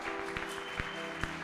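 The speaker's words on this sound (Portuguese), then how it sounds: "Será que você pode dar um aplauso a esse Jesus?" A church audience applauds during a sermon, with clapping that has regular, rhythmic accents over a sustained tonal hum in the background.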